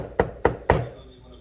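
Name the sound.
knocking on a door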